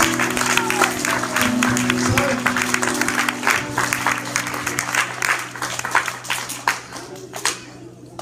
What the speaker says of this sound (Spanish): Un aplauso fuerte al Señor, mis hermanos